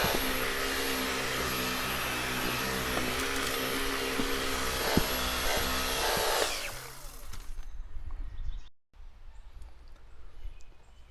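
Dyson V15 Detect cordless vacuum running loudly inside a car interior with a steady high whine, then cutting off abruptly, leaving quieter handling noises and rustling.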